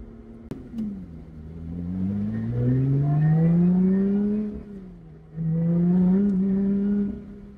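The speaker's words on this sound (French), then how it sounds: "J'espère que vous entendrez bien le bruit du moteur. Ça fait vraiment un chouette bruit." A Lotus Exige 410S engine revs twice, rising and falling smoothly in pitch, loud and close, with a short pause between the two swells.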